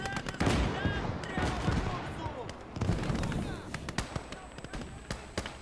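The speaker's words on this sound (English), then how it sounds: "But I hear another tank cooking off behind us." Tank ammunition cooking off during a 1941 World War II eastern-front battle in a strategy video game: a dense run of sharp, cracking bangs and bursts over a continuous roar of battle, with voices faintly in the mix.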